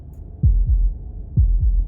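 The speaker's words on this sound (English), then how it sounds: "That was the sound of a heartbeat," Two slow double heartbeats from the horror game Slay the Princess, deep low thumps in a lub-dub pattern, close and heavy over a faint low hum with no other sound.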